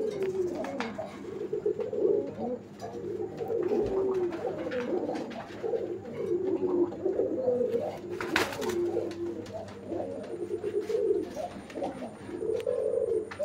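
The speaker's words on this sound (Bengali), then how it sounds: "আপনারা দেখতে পাচ্ছেন কবুতরের জোড়াটি ইন্ডিয়ান কাগজি" A newly paired male and female Indian Kagoji pigeon coo repeatedly and close by, their soft throaty calls rolling in steady overlapping phrases over quiet background noise.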